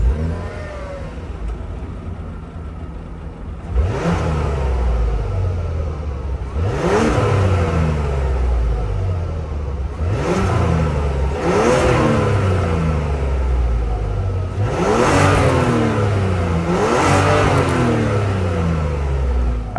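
A 2024 Mazda CX-90 Turbo S Premium's 3.3-liter turbo engine starts with a bark, then settles at idle and is blipped through about five distinct revs that rise and fall, close and loud, with no talking.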